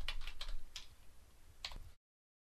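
Computer keyboard typing in short bursts of clustered key clicks, close and clear in a quiet room, with a brief pause before a final burst.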